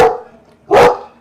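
A dog barks excitedly at the rustle of animal crackers, one short bark at the start and a second, louder bark a moment later, both close and sharp with no talking.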